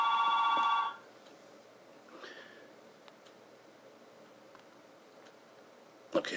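A telephone rings in a room during a math lesson, a short loud burst of electronic ringing for about a second that then cuts off, leaving quiet room noise with faint ticks.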